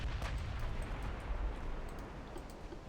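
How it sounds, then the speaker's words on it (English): Heavy naval gun salvos strike an enemy battleship in the warship strategy game Ultimate Admiral Dreadnoughts, a dense, continuous rumble of booms and explosions with low-end weight that stays steady and loud throughout. "my first salvos cause some lovely damage to an enemy battleship"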